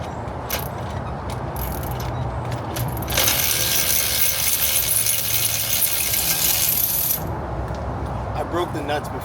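A ratchet wrench clicks rapidly while loosening a tight lug nut on a Toyota GT86 rear wheel, close and loud in a steady burst of metallic ratcheting, with softer tool rattles before and after.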